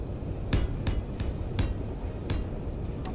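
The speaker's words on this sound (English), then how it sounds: "Right, weld them up." Welding blocks in the Space Engineers video game, with sharp, distinct metallic taps at irregular intervals over a steady mechanical background hum.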